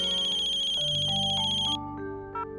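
Phone ringtone in a Hindi TV drama scene: a loud electronic melody of bright repeated tones that plays for nearly two seconds, then cuts to a quieter sequence of short rising notes.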